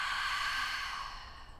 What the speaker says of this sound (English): And then we exhale through the mouth